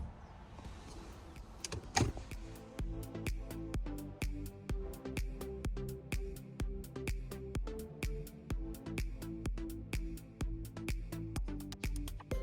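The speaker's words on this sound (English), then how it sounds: "It does also have the electric steering wheel adjustment, memory seats" Electric steering wheel adjustment motor in a 2011 Jaguar XF, a soft motor whir punctuated by a long series of regular sharp clicks, close and fairly quiet, with no talk.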